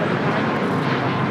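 A jet airliner at LAX gives off a steady, loud broadband roar that holds evenly through the whole moment, with no break or voice over it.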